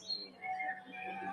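Faint, brief whistling bird calls from an animated nativity scene display in Portugal, a few short tonal chirps over quiet background hum.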